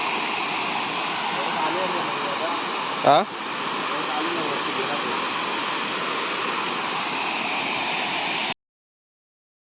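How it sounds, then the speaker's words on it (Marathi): Rushing water at a freshwater fishing spot at night, a steady broadband roar running continuously under a brief spoken word and a short sharp knock partway through, then cutting off abruptly near the end. "तर इकडे तुम्हाला आवाज येत असेल पाण्याचा."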